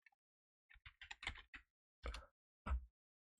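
Computer keyboard typing into a Microsoft Word document: a handful of sharp, close keystrokes in two quick bursts, then a few single presses, in a quiet room with no talk.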